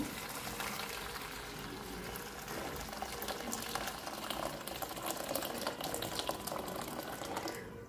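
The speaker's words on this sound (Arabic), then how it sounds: "هننزل عليهم ب3 كوبايات ميه مغليه اهو" Three cups of boiling water are poured over ingredients for a home belly-fat drink, giving a steady close splashing and trickling pour that runs unbroken for several seconds and stops abruptly at the end.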